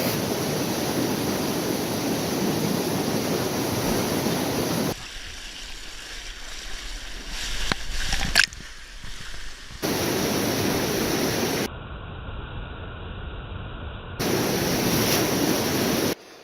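River water rushes down a natural waterfall slide as a loud, steady broadband roar, broken by cuts to quieter, muffled stretches with a few brief knocks, and no talking.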